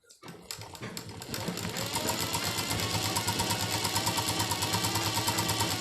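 Home sewing machine stitching the side seam of a cotton palazzo pajama, a fast steady mechanical whir with rapid even needle ticks that builds up from a standstill and then runs continuously and close by.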